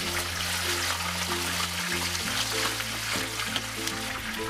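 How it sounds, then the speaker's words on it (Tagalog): Fish fries in hot oil in a steady, soft crackling sizzle, with background music playing underneath. "Nagpainit na tayo ng mantika kaya iprito na natin itong isda ng ilang minuto hanggang mag golden brown ang bottom."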